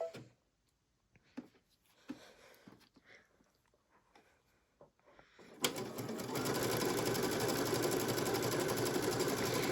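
Fabric handling and a few clicks give way to a sewing machine fitted with a 3-hole cording foot, running a steady 2-step zigzag with loud, even, continuous whirring up close.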